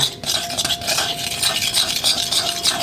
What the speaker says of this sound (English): I think I'll go for 5 or 6 drops. Give it a stir.